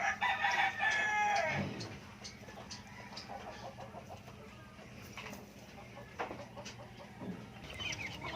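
A rooster crows loudly at the start, followed by quieter clucking and farmyard background noise with occasional faint bird sounds.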